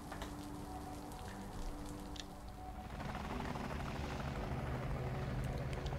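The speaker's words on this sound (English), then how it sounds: "We're on the roof suddenly? Military choppers." Military helicopters in the video game Liberated, a rooftop scene: a continuous rumbling rotor drone with a steady chopping flutter, growing somewhat louder and denser partway through, with no talking over it.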